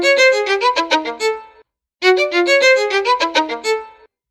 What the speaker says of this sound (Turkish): Bu bir keman.